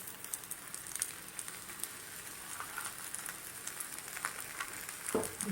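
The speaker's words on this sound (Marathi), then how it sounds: "छान असं खरपूस एकदम भाजून घेऊया" Cucumber thalipeeth frying in oil on a pan, a steady soft sizzle and crackle throughout with small pops, close and alone with no talk.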